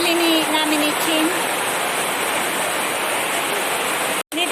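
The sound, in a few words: heavy rain drumming on the roof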